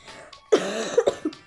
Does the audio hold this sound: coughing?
yes